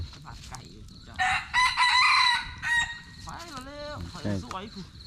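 A wild junglefowl rooster crows loudly and close by, one long multi-part call, followed by a second rooster answering or clucking more faintly, set outdoors at dawn.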